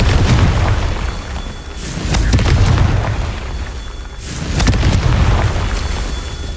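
Two heavy booming blasts from the Confringo fire spell in Hogwarts Legacy, each a loud burst trailing into a rumbling roar, spaced a couple of seconds apart with no talk over them.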